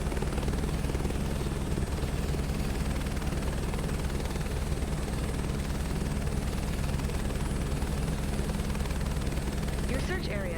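A helicopter flies in a video game search and rescue mission, its steady rotor drone and engine roar loud and continuous throughout, with faint gunfire-like crackles mixed in.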